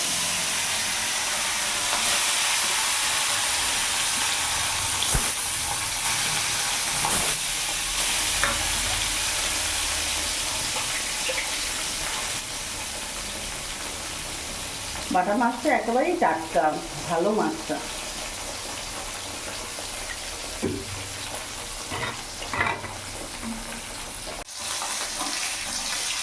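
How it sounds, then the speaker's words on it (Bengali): Bata fish frying in mustard oil in a kadai gives a steady, loud sizzle all the way through, with a few short bursts of speech and clatter over it in the second half. "কড়াইয়ের তেল গরম হয়ে গেছে এবার এক এক করে মাছগুলো আমি ছেড়ে দেবো"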